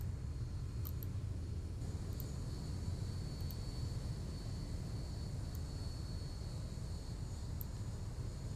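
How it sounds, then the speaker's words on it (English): Steady broadband engine rumble and airflow from a simulated Ryanair Boeing 737 (ZIBO 737) on approach into London Stansted, constant and unchanging, with faint high ticks and a thin tone above the roar, no voices. "the aircraft comes into approach now over Bishop Stortford"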